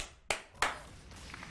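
Two sharp hand claps, close and crisp, about a third of a second apart, followed by faint quieter taps and room hush with no talking.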